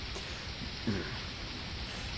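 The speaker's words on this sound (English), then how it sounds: "You wonder if this rain will ever let up." Steady rain ambience from the Homestuck game, a continuous soft hiss of falling rain with a faint low rumble, even and unbroken throughout.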